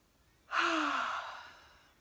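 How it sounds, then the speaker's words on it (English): A single long human yawn drawn in on a breath and released as a falling, sighing exhale during a guided relaxation exercise, close and alone, fading out over about a second and a half. "Breathing in and yawning it out."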